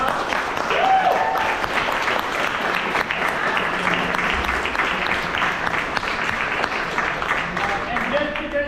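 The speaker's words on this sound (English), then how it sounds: "Let's give our panelists one final round of applause for doing such a great job." A debate audience applauds its panelists in a long, steady round of dense clapping that fills the room at close range and keeps an even loudness from start to finish.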